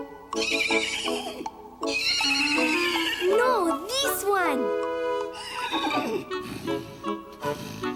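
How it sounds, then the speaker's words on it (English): Cartoon horse whinnies loudly in a stable with a few hoof clip-clops, while someone speaks over and between the neighs. "So they went to the stables, where they found a horse that was gentle, strong, and sound."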